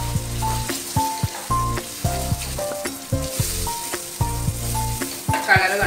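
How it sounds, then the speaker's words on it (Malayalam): Ground masala paste for paneer butter masala sizzles and fries in a pan while being stirred, a steady close crackle broken by repeated scraping stirs and clinks of the spoon. "നമ്മൾ അരച്ച് വെച്ച നമ്മുടെ പേസ്റ്റ് ഇതിലേക്ക് ഇട്ട് കൊടുക്കാം. നന്നായിട്ടൊന്ന് മിക്സ് ചെയ്യും."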